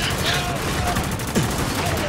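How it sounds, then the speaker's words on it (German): Sustained gunfire in the Spec Ops: The Line video game, a dense fusillade of shots filling the whole stretch, loud and continuous beneath a voice calling out over the combat. "Wir sind schwer unter Beschuss!"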